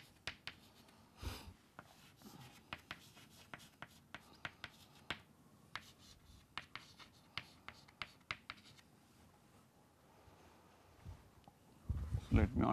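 Marker or stylus drawing on a board or tablet during a mathematics lecture on three-dimensional vectors; quick, faint tapping and scratching strokes in irregular bursts, close and quiet, with brief handling noise at the end.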